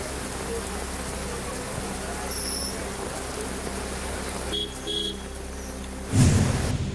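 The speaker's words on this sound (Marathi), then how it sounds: "शिवडीतही मुसळधार पावसाला सुरुवात" Heavy monsoon rain hisses steadily in Sewri, Mumbai, with a low traffic-like rumble underneath, then a louder burst of noise near the end.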